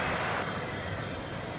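Broad jet roar from an American Airlines Boeing 737-800 departing DFW Airport at night, a steady wash of engine noise heard from a distance.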